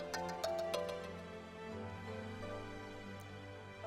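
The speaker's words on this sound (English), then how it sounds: "My phone." Phone ringtone playing a short melodic tune of bright tonal notes over a faint hum, fairly close and clear, with no one speaking.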